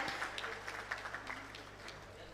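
An audience at a convention's inaugural session in Bhopal applauds to welcome the chief guest, steady, fairly faint clapping running under a speaking voice.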